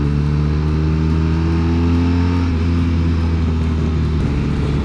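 A 2021 BMW R1250RT motorcycle cruises at highway speed, its boxer engine giving a loud, steady droning hum with constant wind noise close to the rider and no talk.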